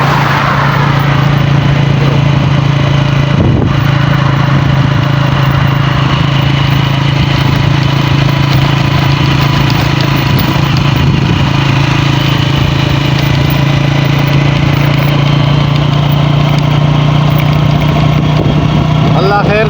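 Riding a motorcycle along a road with fast-moving traffic, a loud continuous engine drone with heavy wind rumble from start to finish, passing vehicles blending into the steady roar.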